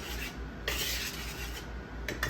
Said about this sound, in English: I'm just going to give that a whisk, get it mixed together